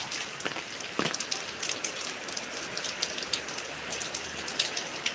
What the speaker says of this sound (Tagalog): lakas pa naman ng ulan